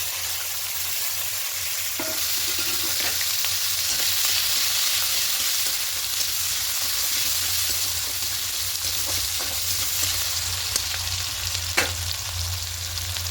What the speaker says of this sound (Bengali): পেঁয়াজটা দিয়ে একটু লাল লাল করে ভেজে